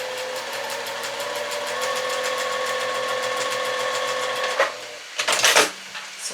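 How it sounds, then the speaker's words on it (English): A sewing machine stitches a quarter inch from seam tape on half square triangle quilt pieces, running as a steady, close rapid whir of needle strokes for several seconds, then stopping with a few clunks and rattles. "you're going to sew on either side of it by 1/4 of an inch"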